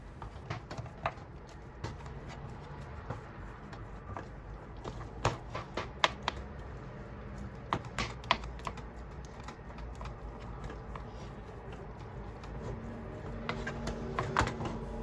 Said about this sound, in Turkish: Bir kaşık yardımıyla patatesleri eziyorum.